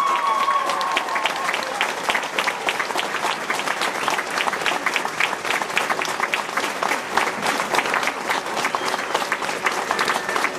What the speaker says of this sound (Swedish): Håll i den applåden, det är härligt det här.